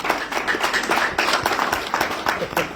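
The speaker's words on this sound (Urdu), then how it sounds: "آپ تالی بجا رہے ہیں" Audience at an ordination service clapping in a steady patter of many overlapping claps, fairly loud and close throughout, with no talk over it.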